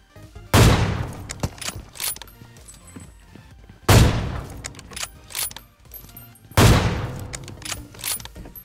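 Three heavy AWM sniper rifle shots ring out in PUBG Mobile, spaced about three seconds apart, each a sharp loud crack with a long ringing tail, plus faint mechanical clicks between shots.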